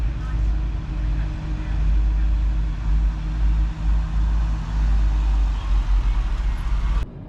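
Porsche Carrera GT engine droning steadily with a deep, constant low rumble while the car cruises, running loud and continuous until an abrupt cut near the end.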